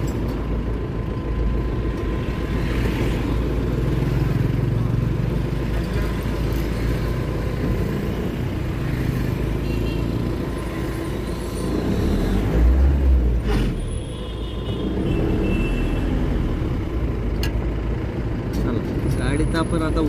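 A car eases off an expressway down onto a rough, dug-up road, its engine rumbling and tyres crunching steadily throughout, with people talking over the noise.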